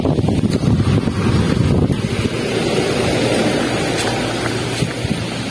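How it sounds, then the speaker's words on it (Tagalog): Steady wind buffeting a microphone at a rest house in Tagaytay, a loud continuous low rumble and roar with gusty swells, no voices. "Hangin."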